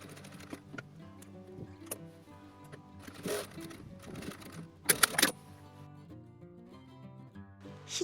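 A sewing machine runs in short, quiet bursts as it stitches fabric for a modern hanbok-style dress, with light ticking and clicks under soft background music.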